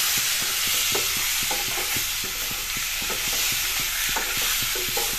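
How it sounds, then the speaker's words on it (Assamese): Catfish frying in oil in a pan: a steady, dense sizzle throughout, with regular light tapping of a utensil against the pan, close and without talk. "মাছখিনি কেইমিনিটমান সময় এনেদৰে ভাজি ৰাখিম"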